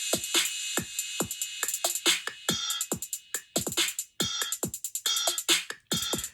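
A busy, crisp GarageBand hip hop drum loop of rapid clicky hits and tight snares in a steady repeating groove, with no voices.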